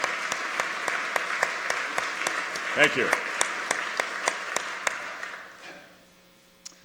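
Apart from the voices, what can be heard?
audience applause at State of the State address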